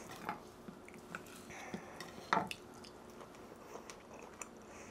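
Cooked steak being chewed during a taste test: faint, close mouth sounds with soft bites and small crunches, plus light clinks like cutlery, in a quiet room with no talking.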